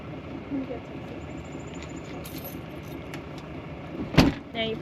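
Caravan keys jangle in a short, bright metallic burst near the end, close by, after a stretch of low background noise with voices murmuring.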